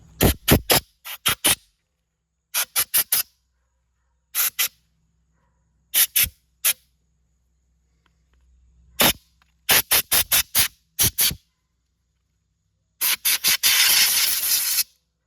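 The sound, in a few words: compressed air spraying out lawn mower covers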